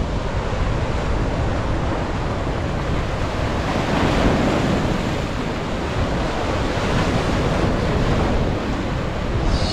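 Rough sea at Boa Viagem beach in Recife surging against rocks, a loud, continuous crashing roar of surf mixed with wind buffeting the microphone.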